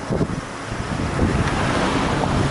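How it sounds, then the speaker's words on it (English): Strong wind blows across a microphone outdoors in summer heat in Japan, a loud, continuous rumbling buffet with no speech. "This wind, I really hope it's not too bad on the video."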